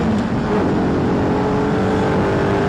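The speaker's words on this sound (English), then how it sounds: "Feed the power in all the way. Let it rev." An Audi R8 engine revs hard under full acceleration on a race track, a steady loud roaring drone heard from inside the car with no talk.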